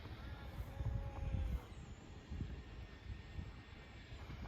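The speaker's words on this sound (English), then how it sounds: "this thing is sweet for a 250 gram plane" A 250-gram nano foam RC plane drones overhead in the open, its small motor steady and moderately distant, swelling slightly as it passes.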